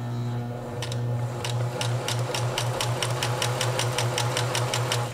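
A sewing machine stitches fabric in a steady run of evenly spaced needle strokes over a constant motor hum, close and fairly loud, with no voices.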